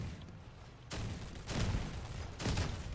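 Gunfire from a pirate-ship vehicle build in the combat game Crossout, a few muffled distant booming shots landing about a second apart over low rumbling background.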